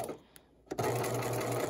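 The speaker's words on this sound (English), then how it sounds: "I'm sewing the length of the line and back stitching once again." A domestic sewing machine stitches through foundation paper piecing for a festive quilt block: a brief quiet start, then a steady, close, continuous mechanical whir of rapid stitching.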